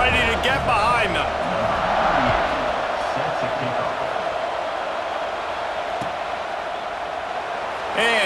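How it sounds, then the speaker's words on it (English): Stadium crowd noise from a college football video game, a broad steady roar rising toward a kickoff with a commentator talking over it at the start. "this crowd now ready to get behind them"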